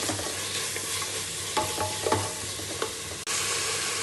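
Masala frying with onion and tomato in a pan for mushroom biryani, a steady close sizzle with scraping stirs and a few sharper spatters, no voices.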